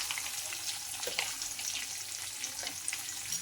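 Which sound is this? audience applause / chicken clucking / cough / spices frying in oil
spices frying in oil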